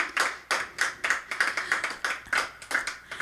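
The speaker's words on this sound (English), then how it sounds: "there are people in the room and they're clapping" Audience applause in a small live-music room, a steady run of sharp hand claps from a modest crowd, fairly close and lively, with no other sound over it.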